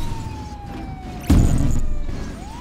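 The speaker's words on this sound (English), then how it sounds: "The police car!" A police car siren in a video game wails as a faint falling tone, interrupted by a sudden loud thump mid-clip, then the siren rises again at the end.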